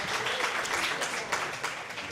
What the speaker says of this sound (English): Big round of applause for our Secretary of State candidates.